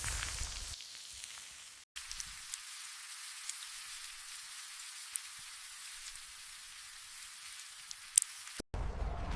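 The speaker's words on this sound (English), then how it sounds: "From the poisoned skies falls acid rain" Steady rain pours down as a continuous hiss, heavy and unbroken, falling alone with no voices, the downpour acid rain from poisoned skies.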